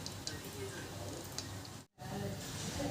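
Kothimbir vadi pieces fry in hot oil in a kadhai, giving a steady close sizzle and bubbling that cuts out for a brief moment before resuming.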